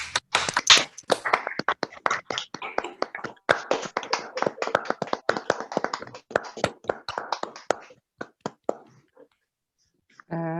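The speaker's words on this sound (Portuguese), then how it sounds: "eu gostaria de pedir uma salva de palmas para essa mesa" An audience at a psychoanalytic book fair applauds with sparse, uneven hand claps that thin out and stop, followed by a brief voice at the end.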